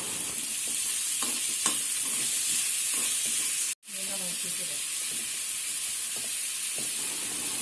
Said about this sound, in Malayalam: എന്നിട്ട് ഈ സവാള ഒന്ന് വഴറ്റണം.